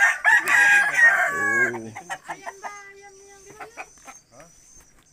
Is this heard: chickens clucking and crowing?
yes